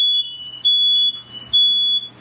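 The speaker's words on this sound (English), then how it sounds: "Do y'all hear my smoke detector going off?" A high-pitched smoke alarm beeps in three long, evenly spaced pulses over a low steady hum, loud and close, in a kitchen while pork chops are cooked.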